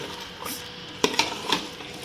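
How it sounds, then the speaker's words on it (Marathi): Chicken tossed with chilli powder is stirred in a hot pan, giving a soft sizzle with a few sharp clinks of a spoon against the metal. "हे चांगलं आपण एकदाच कालून घेऊयात, जेणेकरून सगळीकडे लागेल असं"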